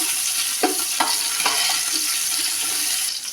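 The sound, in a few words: frying cumin and spices in oil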